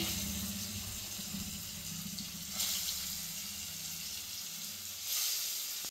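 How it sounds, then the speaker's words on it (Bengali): Marinated pangas fish frying in hot oil in a kadai gives a steady, loud sizzle and hiss throughout, with brief surges of crackling spatter. "কড়াতে তেল দিয়ে দিয়েছি, গরম হয়ে গেছে। এবারে মাছগুলো ছেড়ে দেব।"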